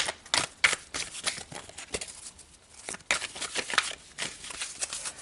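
Tarot cards being shuffled by hand: a run of quick, crisp riffling and slapping bursts, close and fairly loud, with a brief lull midway, no talk.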